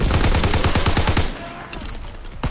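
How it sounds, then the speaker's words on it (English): Rapid automatic gunfire from a World War II-era weapon in the Call of Duty WWII beta, a loud steady burst of closely spaced shots for over a second, then a quieter stretch of distant battle noise and a few faint later shots. "they're shooting from mid and side"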